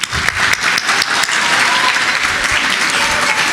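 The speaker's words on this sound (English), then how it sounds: "please give them very big round of applause to the nice people that were here presenting your diplomas" A graduation crowd at a 12th-grade medical academy ceremony claps loudly and densely, a thick continuous wash of applause holding strong for the whole stretch.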